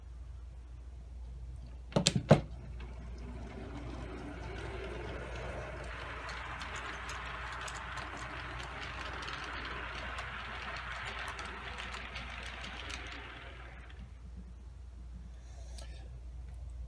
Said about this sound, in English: Let's go ahead and bring our train into town.